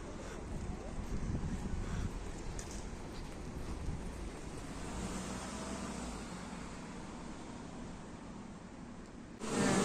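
Cool wind buffeting the microphone outdoors in Oman, a steady loud rushing roar with low rumble that holds throughout, rising sharply at the very end, with no clear talking.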